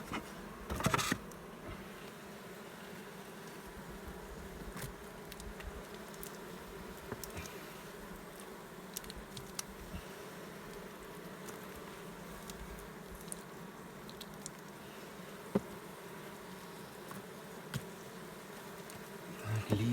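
A steady, low buzzing of many Polissian bees at a framed hive amid smoke, constant and fairly quiet, with occasional soft taps and rustles.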